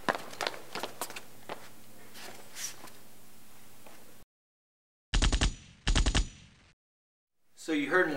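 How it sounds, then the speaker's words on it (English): Gunfire in a film scene: a rattle of shots and noisy movement, then silence, then two sharp bursts of rapid close shots, with another noise rising at the end. "So you heard more shots and saw Mr. Davison walking away from a body?"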